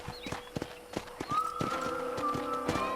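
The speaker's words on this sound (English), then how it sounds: "Oh, mount your new horse." Horse hooves clip-clop in a steady rhythm with a whinny rising over them, set in the Western game Red Dead Redemption while mounting a new horse at a ranch; close and clear, with no talk.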